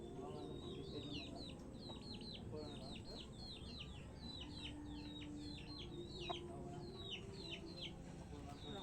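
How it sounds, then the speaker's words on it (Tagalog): A chicken clucks repeatedly in a rapid, chattering series, fairly close, with birds chirping faintly and low background noise underneath. "Chicken."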